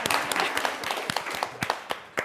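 Scattered clapping from a small audience at a modern design industry talk in a showroom, a dense patter of hand claps at moderate distance with a few sharper individual claps, continuing steadily throughout.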